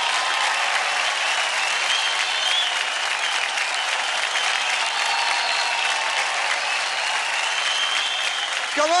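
Loud, sustained applause and cheering from a studio audience at a televised dance competition show, a dense steady clatter of clapping lasting throughout without pause.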